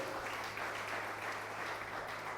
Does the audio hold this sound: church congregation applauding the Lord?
yes